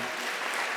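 Brief burst of audience clapping at a community assembly of a diversity summit, a dense, even wash of many hands heard without any talking.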